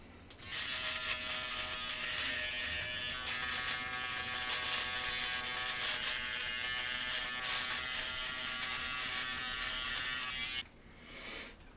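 A Panasonic Multishape electric trimmer buzzes steadily through a beard for about ten seconds, close and loud, then cuts off abruptly with a brief final whir.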